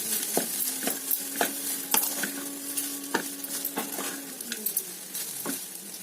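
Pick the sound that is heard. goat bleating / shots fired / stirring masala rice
stirring masala rice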